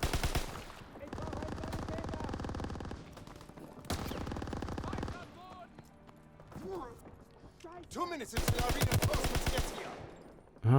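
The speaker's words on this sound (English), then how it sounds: "I'll put a few rounds in them." Rapid automatic gunfire from a grease gun and other weapons in a Call of Duty: WWII multiplayer match, loud bursts in several stretches with quieter gaps and a voice talking between them.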